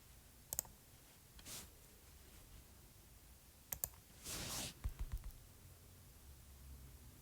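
Soft taps on an iPad's on-screen keyboard come as a few isolated clicks and one short quick burst, faint and close against a quiet background with a light rustle.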